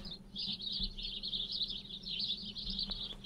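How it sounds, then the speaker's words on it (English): In the War Z game world, a bird chirps in a continuous string of high tweets that carries on without pause against quiet background ambience. "But the bird sound will just not go away."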